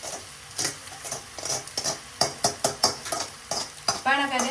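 Rice being stirred and fried in a pan with salt and chili for a Punjabi home-cooked dish, with repeated scraping stir strokes over a steady sizzle, close and fairly loud, and a brief clink of utensils at the end.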